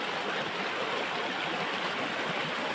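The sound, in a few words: fast-flowing wild river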